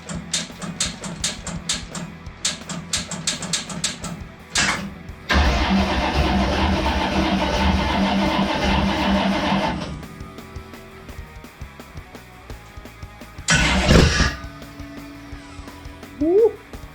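A Corvette engine in a street stock car cranks over in a rapid string of starter clicks, catches and roars steadily for several seconds, then cuts out, followed by a short burst and quieter shop noises.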